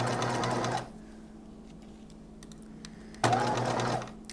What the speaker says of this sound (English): I just oiled my machine and it is running so much more smoothly.